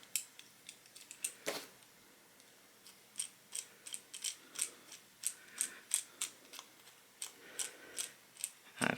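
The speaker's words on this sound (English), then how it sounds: "So just put that one on through here and screw it in." A screw being driven into a Tusken Slayer prop lightsaber hilt with a washer, heard as a close, steady run of sharp ratcheting clicks and squeaks in an even rhythm, alone in a quiet room.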